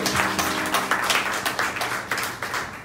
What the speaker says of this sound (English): let's give a round of applause for Chase Kirby